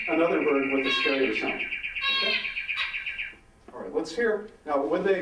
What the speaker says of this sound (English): that's when they hit another bird with a scarier sound